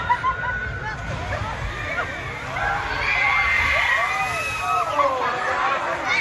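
The Tidal Force boat ride at Hersheypark splashes down a hill into water with a broad, sustained rushing slosh, while a crowd chatters and children shout nearby.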